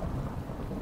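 Thunderstorm in the video game Minecraft (FTB modpack): a continuous low rumble of thunder blended with steady rain hiss, dense and even throughout, with no voices.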